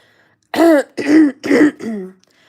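A person recovering from pneumonia coughs and clears their throat in four close, harsh bursts, loud and near, with no talk around them.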